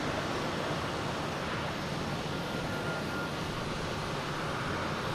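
WestJet airplane taking off at Boston Logan Airport in the evening, a steady broadband engine roar heard from a distance, constant and moderately faint for the whole stretch.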